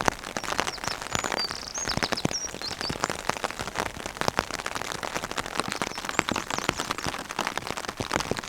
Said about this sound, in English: as you can probably hear it's raining